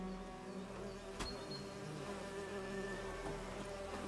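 Bees buzzing in the Witcher 3 video game, a steady insect drone hovering close and continuous, with a single sharp click partway through and no voices.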